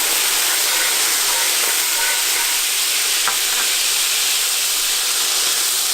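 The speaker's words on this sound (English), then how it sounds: "We're going to add that quarter cup of white wine" White wine poured into a hot pan of leftover seared scallop juices, bursting into a loud, dense, steady hiss of sizzling and steam that holds unbroken throughout, close up.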